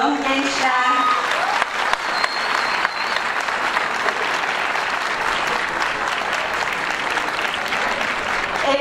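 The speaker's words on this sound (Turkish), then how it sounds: "Ben sizden ailelerinize bir alkış istiyorum gençler." Sustained applause from a large audience at a high school graduation ceremony honoring the graduates' families, a steady dense wash of clapping that fills the whole clip, with brief voices near the start.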